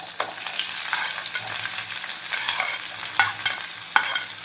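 Long-sliced green chilies and onion pieces frying in a pan, a continuous close sizzle broken by scraping stirs and a few sharp spatters, with no talking.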